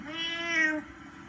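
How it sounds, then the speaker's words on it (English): A cat gives a single clear, drawn-out meow lasting just under a second, close and fairly loud, with no voices over it. "Oh, you're just a cute kitty, aren't ya?"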